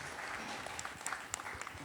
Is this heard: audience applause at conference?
yes